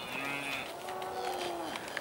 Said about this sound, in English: you can just see the cows looking over the fence. They're obviously upset not to be let out